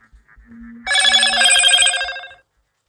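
A telephone bell rings out in one bright, loud burst of a little over a second. Faint soft taps come before it and a low tone sounds beneath, then the ringing stops and there is silence.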